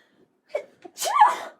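A single person sneezes up close, a short inhaled catch followed by a sharp burst, in a quiet room with no talking.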